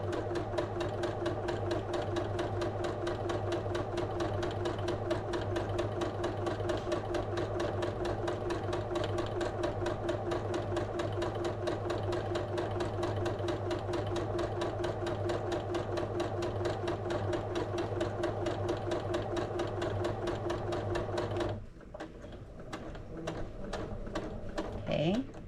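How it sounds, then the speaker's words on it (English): A sewing machine stitches slowly and evenly around a fabric gift, its rapid mechanical needle chatter steady and close for about twenty seconds before it stops and the room goes quiet. "I'm just sewing all the way around. As you can see, I'm going nice and slow."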